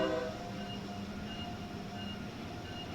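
Acela high-speed train in Train Sim World 3 powering up: a steady low electric hum and rumble with faint tonal whines, continuous and fairly quiet throughout, with no voices.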